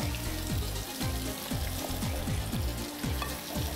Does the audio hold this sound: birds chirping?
no